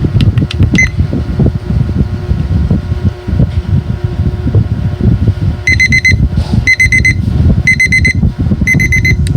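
A kitchen timer set for a five-second countdown rings with short bursts of high electronic beeping, repeated in four pulses over a loud, steady background hum.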